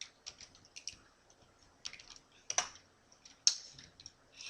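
Light, irregular keystrokes tap on a computer keyboard in a quiet room, coming in soft clusters with a few sharper clicks between short pauses.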